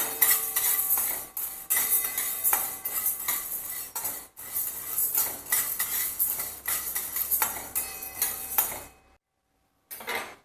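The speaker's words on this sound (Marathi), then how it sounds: "हरभऱ्याची डाळ आहे ते आपण भाजायची" A spoon scrapes and stirs dry chana dal as it dry-roasts in a pan, in a repeated rhythm, with soft rattling and clinks, ending in a brief silence.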